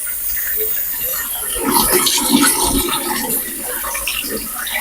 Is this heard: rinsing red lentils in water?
yes